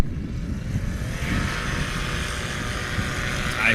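A STOL propeller airplane departs a runway at a practice event in Creswell, Oregon, its engine droning loudly and steadily as it rises, with a faint voice in the background.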